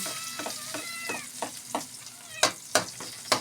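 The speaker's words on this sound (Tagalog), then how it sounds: "Ito na yung mga pusa." Several short cat meows ring out over a steady kitchen sizzle, with sharp clattering clicks toward the end.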